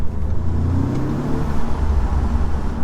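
A 2-litre car engine revs steadily with a mid-pitched hum that rises slightly, heard close up from inside the vehicle, with no talking.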